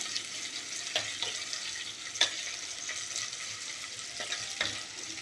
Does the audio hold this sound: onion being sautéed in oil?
yes